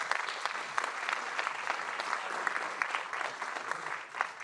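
An audience of women applauds in a steady wash of many hands, with individual sharp claps popping out of the texture; the clapping is moderately loud, continuous for several seconds and unaccompanied by speech.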